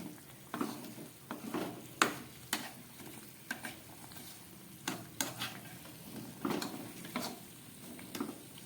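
Layered khaja pastries frying in oil make a soft, close bubbling sizzle, broken by repeated scraping and clinking of a utensil against the pan in short irregular bursts, with no speech.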